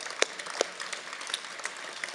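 A small audience claps lightly and sparsely at a veterans' salute event, scattered individual claps rather than a full ovation, fairly faint.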